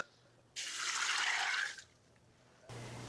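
Water pours into a soup pot in one steady, moderately loud gush of about a second and a quarter, then stops briefly before a second pour starts near the end.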